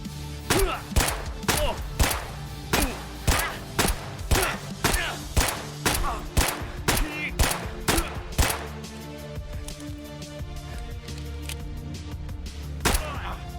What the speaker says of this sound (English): So it took 17 rounds to bring down Zabrello